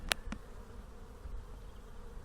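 Bees buzzing busily at a hive, a faint continuous drone with a couple of brief sharp clicks near the start, recorded close but quiet.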